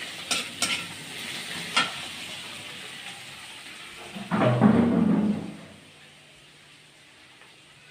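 Tomato frying in a pan with steady sizzling, a few clinks of the utensil early on, then a louder burst of stirring and sizzle for about a second before settling back to a quieter hiss.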